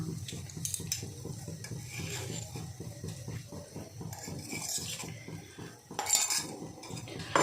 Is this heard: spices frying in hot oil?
yes